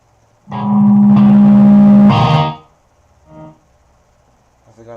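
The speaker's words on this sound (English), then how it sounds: "As soon as I turn the amp on, it's going to crank full blast." An electric guitar amp blares at full volume, holding a loud sustained tone with a steady hum for about two seconds before cutting off, followed by a few quieter brief sounds.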